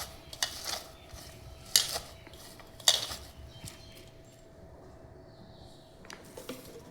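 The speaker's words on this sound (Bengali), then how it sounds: "এখন আমি এখানে পরিমাণ মতন লবণ দিয়ে এই কাঁচামরিচ, পেঁয়াজ আর ধনিয়া পাতা একসাথে মেখে নিব।" Two eggs being stirred with salt, chopped green chili, onion and coriander leaves, heard as soft wet mixing and scattered clinks of a utensil against a bowl, close and fairly quiet with no talk.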